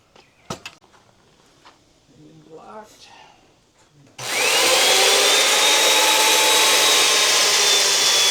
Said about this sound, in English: student first time using chain mortiser. The Makita 714L.